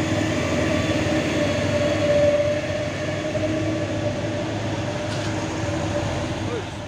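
A train rumbling past, a steady loud clatter of rail cars that holds for the whole stretch without letting up.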